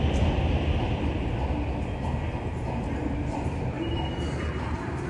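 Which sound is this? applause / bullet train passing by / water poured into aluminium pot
bullet train passing by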